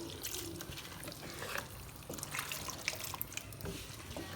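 Water left from boiling chickpeas is poured into a pan of chickpea masala, giving faint close trickling and splashing with small drips and sizzles, quiet and irregular with no talk.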